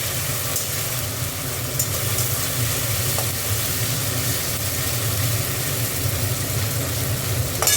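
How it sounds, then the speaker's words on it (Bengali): Ginger and garlic frying in oil for an egg curry, a dense continuous sizzle with a low steady rumble beneath, close and fairly loud throughout, no talking. "আদা রসুনটা ভালো করে একটু ভেজে নেব।"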